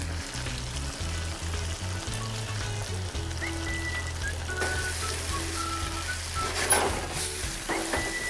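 Noodles and bean sprouts hiss and crackle as they are stir-fried in a hot pan for a spicy snow crab noodle dish, a steady close sizzle with soft scraping and tossing throughout.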